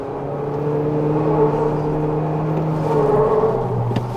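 A Toyota Tacoma truck labours over rough terrain, its engine giving a steady droning rumble at close range that holds for about four seconds, with a brief knock near the end and no talk.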